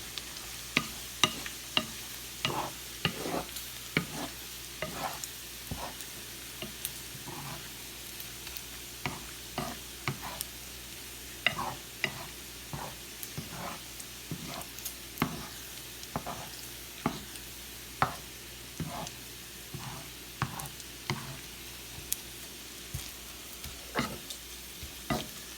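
String beans and bacon sizzle in a pan toward crispness while a utensil stirs them, giving a steady frying hiss broken by regular scraping strokes, close and alone with no talk.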